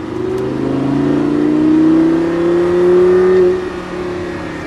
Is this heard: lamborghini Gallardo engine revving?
yes